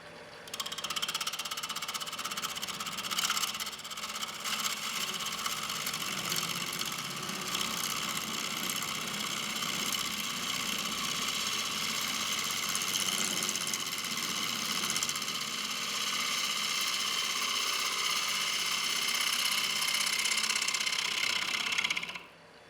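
A wood lathe turns a bowl under a cutting tool, giving a steady, loud, hissing whir that holds nearly constant for over twenty seconds, then stops abruptly, with no speech.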